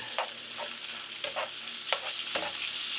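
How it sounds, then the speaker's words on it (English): Bacon fries in a pan with a soft, steady sizzle, marked by several brief scraping stirs at intervals, fairly quiet and close. "fry up some bacon"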